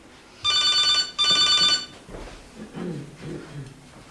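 An indoor telephone rings loudly nearby in two quick electronic bursts, followed by softer voices speaking.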